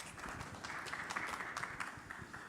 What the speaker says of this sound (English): Please, round of applause for our panelists.